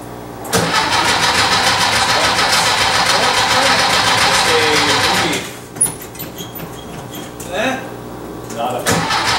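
Engine cranking and catching, then running as long as fuel lasts, a loud rough mechanical clatter for about five seconds before dropping to uneven idling, with voices talking over it.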